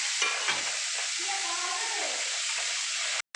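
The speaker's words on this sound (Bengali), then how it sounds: "রসুনটা ভাজা ভাজা হয়ে গেছে।" Crushed garlic frying in oil in a wok with dried red chilli and black cumin seeds, a steady close sizzle and crackle holding throughout with a light stirring scrape near the start.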